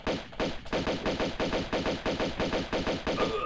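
Rapid, evenly spaced bursts of automatic gunfire in a video game fight, roughly a dozen sharp loud shots in a steady rhythm over a few seconds, with no talking.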